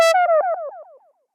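A single short tone is run through the VintageRack plugin's default delay, followed by about eight evenly spaced echoes that fall slightly in pitch and fade steadily to silence within about a second.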